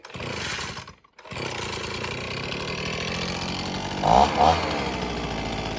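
A Mac Allister MBVP25 petrol garden leaf blower, already warm, starts after a pull and runs at a loud, steady, buzzing two-stroke drone with a brief dip and then two short revs.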